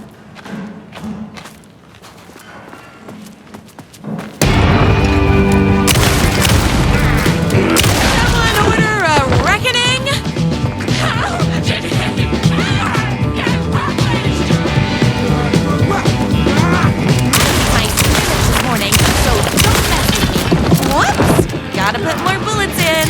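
Gunfire in Alan Wake 2's Night Springs episode, a dense, loud stretch of shots, thuds and impacts over game music and effects that starts abruptly after a quiet opening and continues nearly throughout.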